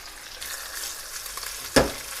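Sea bream frying in oil in a pan over low heat makes a steady close sizzle, broken by one brief louder splash or crackle near the end.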